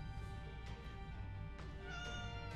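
A pet cat meowing indoors, a few faint drawn-out tonal cries over a steady low background hum.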